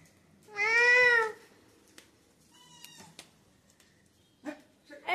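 A cat lets out one long, loud, drawn-out meow up close, followed by a few shorter, fainter mews and small sounds in an otherwise quiet room.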